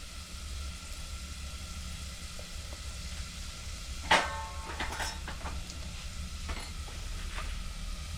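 Garlic cloves fried deep red with a pinch of asafoetida added to hot oil, sizzling steadily close by, with a sharp crackling burst as the spice hits and a few lighter spits and taps after it.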